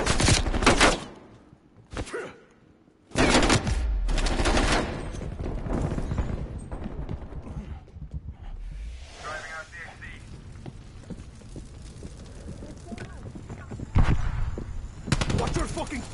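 Gunfire in a Call of Duty Prop Hunt match comes as loud bursts of rapid shots, followed by more sustained fire and clatter, with players talking over it.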